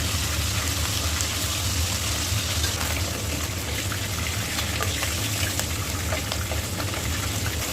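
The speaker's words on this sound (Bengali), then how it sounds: "আমি হালকা করে একটু এপিট ওপিট করে ভেজে নেব সবগুলো মাছ" Hilsa fish pieces shallow-frying in a pan, turned lightly on both sides, give a steady, dense sizzle and crackle that runs evenly throughout with no talk.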